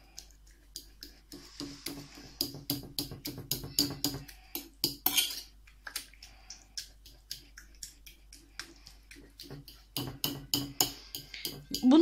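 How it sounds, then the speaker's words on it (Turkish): A fork mashes cooked eggplant for Hünkar Beğendi in a dish, giving a rapid series of close clicking and tapping scrapes against the bowl, with short pauses between bursts. "Ama ben yine de emin olamadığım için bir de çatalla ezmek istiyorum."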